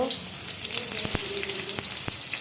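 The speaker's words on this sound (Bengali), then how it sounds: "এখানে আমি এখন তেল দিয়ে দিছি, শুটকি বসাই দিব।" Dried fish sizzles in hot oil in a pan, a continuous soft frying hiss broken by a few sharp crackles and stirring taps, fairly quiet and close.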